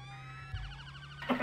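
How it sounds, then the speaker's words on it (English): A police siren in the Roblox game ERLC wails steadily, its pitch sweeping up and down, fairly close and loud, with a low hum underneath. "I hear the siren."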